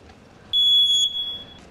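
A smoke alarm being tested gives one loud, piercing electronic shriek lasting about a second, sounding alone and close.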